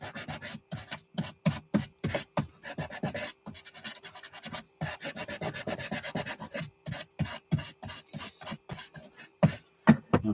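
Hand sanding with 320 grit sandpaper in a workshop, a close, steady series of rhythmic back-and-forth rasping strokes with brief pauses between passes.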